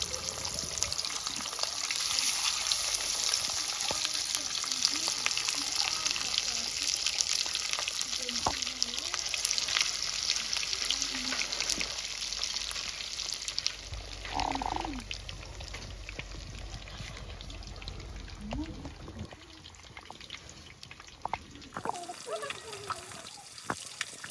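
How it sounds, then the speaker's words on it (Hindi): Fish pieces fry in hot oil for an old Kashmiri-style fish recipe, giving a steady broadband sizzle throughout with occasional clinks and handling sounds, close and fairly loud, with no talking. "इस तेल में हम फ्राई कर लेंगे फिश के पीसेस"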